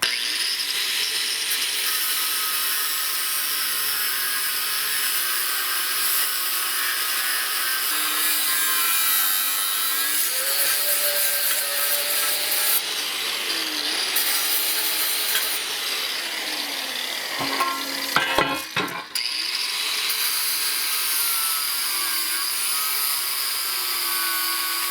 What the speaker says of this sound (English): I'm going to cut this off and cut the other end off,